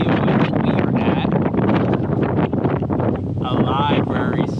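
Strong outdoor wind gusts buffet the microphone with loud, rough rumbling and hiss for several seconds, and a person talks over the roar.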